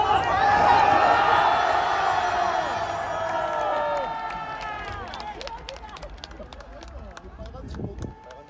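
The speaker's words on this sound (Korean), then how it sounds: "함성 한번 질러주십시오." A large crowd cheers, roars and shouts at an outdoor political rally outside Dongdaegu Station in Daegu, loud and sustained at first, then fading into scattered whoops and murmurs.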